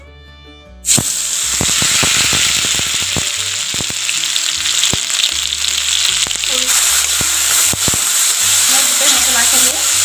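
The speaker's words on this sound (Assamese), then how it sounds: "মই মছলাখিনি ধুনীয়াকৈ ভাজি লওঁ।" A masala paste of ground mustard, garlic and ginger hits hot oil with a sudden loud hiss, then sizzles continuously while a spatula scrapes and taps the pan repeatedly, close and loud.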